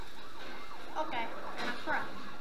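A wailing police siren from the Need for Speed Most Wanted racing game, played with an Xbox steering wheel, sweeps up and down over a dense engine-and-game bed, with a voice speaking over it.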